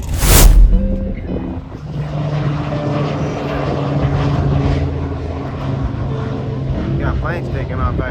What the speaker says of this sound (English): Planes taking off out here too.